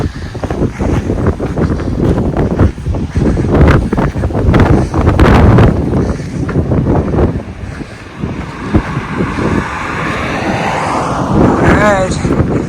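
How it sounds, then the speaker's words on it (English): A breeze on a hiking trail on a warm day buffets the microphone in loud, continuous rumbling gusts that stay steady throughout, with talk mixed in under the wind. "pretty good little breeze blowing"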